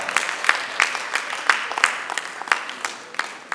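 Audience applause at a university academic writing workshop, sparse and uneven claps from a modest crowd with distinct individual hand claps standing out, steady for several seconds.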